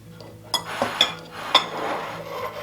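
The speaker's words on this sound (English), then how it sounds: "I always break my eggs into a separate container of sorts" Eggs cracked one by one on the rim of a container beside a mixing bowl while making pumpkin bread: a few sharp, close clinks and taps spaced about half a second apart over soft kitchen background.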